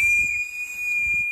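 Shrill whistles blown by a crowd in Wuhan, honoring a whistleblower doctor, sound as one steady high-pitched tone held through the whole moment, with low rumbling crowd noise beneath it.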